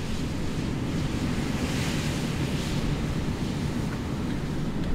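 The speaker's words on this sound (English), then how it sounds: "We've just pulled up at the sea, and you'll see there how choppy it is." Choppy sea waves rolling onto a beach near Malaga under a red-flag warning, a steady dense roar of surf with strong wind buffeting the microphone throughout, no voices.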